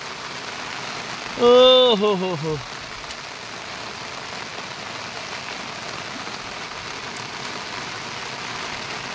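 Steady rain falls across a Konkan countryside, a constant close hiss with no breaks. Partway through, a person briefly exclaims over it.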